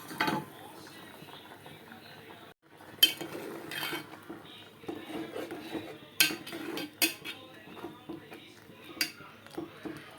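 A spoon stirs netholi (anchovy) fish curry in a pot on a stove, giving scattered metallic clinks and scrapes in uneven bursts over a steady low background hiss.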